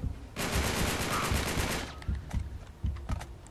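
Automatic blind fire from a gun in Uncharted 3, a loud dense rattling burst for about a second and a half, then scattered separate shots, with no voices.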